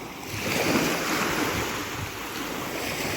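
Steady roar of Black Sea waves washing in at Odesa, broad and continuous, with wind buffeting the microphone; no voices.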